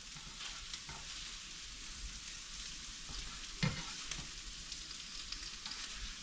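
Cooked shrimp and onions go back into a hot pan and sizzle steadily up close, a constant crackling hiss with one soft clunk partway through.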